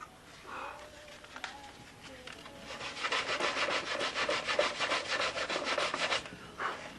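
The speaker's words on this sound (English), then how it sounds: "Go over to the Dremel tool, put some nice radiuses on everything" A Dremel rotary tool rounds the edges of plywood parts for a Tsunami 7 fuselage, producing a close, raspy sanding buzz in quick repeated strokes that swells in the middle. A voice is heard briefly at the start.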